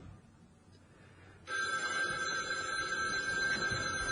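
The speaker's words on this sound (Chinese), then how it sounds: "你电话。" A telephone bell starts ringing after a quiet moment and keeps ringing steadily and loudly, with no voices over it.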